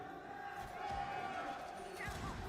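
Arena crowd of FaZe Clan fans at an esports Rainbow Six Siege final, a steady distant roar of cheering and voices filling the space throughout, with faint shouts rising near the end.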